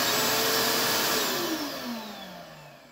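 A shop vac roars through a homemade cyclone dust collector, a loud close whine that slowly drops in pitch and volume as the motor spins down.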